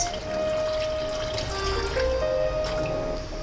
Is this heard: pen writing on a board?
no